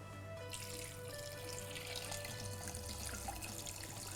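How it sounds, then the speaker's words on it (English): Water runs steadily from a tap into a pot during yakhni pulao preparation, a continuous close splashing stream that lasts throughout with a low hum underneath. "Add some water."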